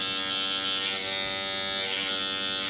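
A cheap store-bought electric beard trimmer running after being switched on, giving a loud, steady, harsh buzz that holds constant at close range with no talking.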